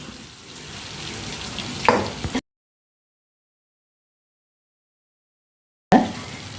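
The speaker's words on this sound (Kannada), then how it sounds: "ಈಗ ಮೀನನ್ನು ಫ್ರೈ ಮಾಡಿಟ್ಟ ಮೀನು ಹಾಕಿಕೊಳ್ಳಿ" Fried fish pieces go into a pan of simmering masala, giving a sizzling, bubbling crackle with a couple of sharp clatters. The sound stops dead into a long silence, then returns briefly with another clatter.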